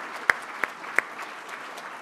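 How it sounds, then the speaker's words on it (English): Sparse applause from a Rotary club audience for volunteers, a soft background of clapping with a few sharp, distinct claps standing out near the start. "let's give them all a round of applause for all the great work they did today"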